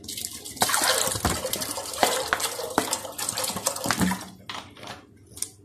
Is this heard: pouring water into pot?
yes